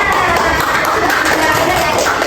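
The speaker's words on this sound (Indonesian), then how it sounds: "Oke, kasih tepuk tangan semuanya." A classroom of students clapping together, a short, busy burst of many hands close by, fairly loud and steady with no clear talk over it.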